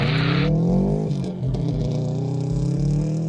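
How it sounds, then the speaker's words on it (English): An all-wheel drive turbocharged rally car drives through slush at a rally school, its engine droning loudly and steadily with revs rising and falling, plus a brief burst of hissing spray at the start. "It's an all-wheel drive turbocharged car."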